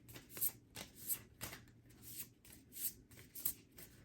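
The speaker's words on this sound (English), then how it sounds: "So let's go ahead, draw some more oracle cards" Oracle cards being shuffled by hand, a quiet close series of quick riffling bursts coming roughly twice a second, soft and papery, with no speech.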